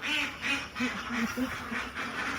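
A flock of farm ducks waiting for food gives a steady, rhythmic run of about half a dozen nasal quacks, close and moderately loud, with no speech.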